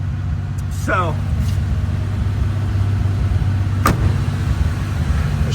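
A 1984 Pontiac 6000 STE survivor with 37,000 miles idles steadily as a low, even engine hum, while someone talks briefly over it and a short high squeak cuts through.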